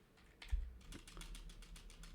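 Quick keystrokes clatter on a computer keyboard in an irregular burst of taps, close and fairly faint with no voices.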